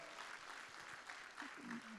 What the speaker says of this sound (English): Can we get a round of applause for those two generous gifts?